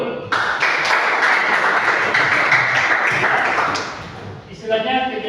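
An audience breaks into sustained applause, a dense wash of many hands clapping for about four seconds before fading, followed by a brief voice.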